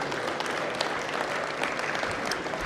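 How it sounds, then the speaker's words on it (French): Collective audience applause at the opening speech of the Île-de-France mayors' fair, a steady, fairly distant wash of clapping from a large crowd. "Je pense qu'on peut les applaudir collectivement"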